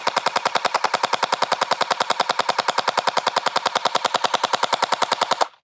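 A NERF Pro Gelfire Mythic gel blaster fires on full auto: a rapid, evenly spaced burst of sharp, loud mechanical shots that runs nonstop for about five seconds, then cuts off abruptly.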